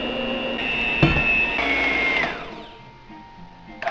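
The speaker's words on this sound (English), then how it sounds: "now we're just going to start beating in our flour and baking powder" An electric hand mixer whirs as it beats flour and baking powder into a butterscotch mixture. The motor holds a steady, loud whine with a bump partway through, then winds down to quiet near the end, with no talking.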